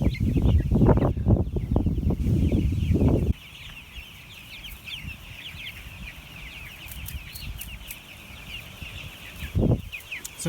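Chickens cluck in grass outdoors, with a burst of close, loud low clucking and rustling at the start, then softer scattered clucks over a steady background, and another short close burst near the end.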